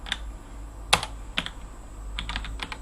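Light, steady clicking of a computer keyboard while a bash script is typed, close and fairly quiet over a low hum.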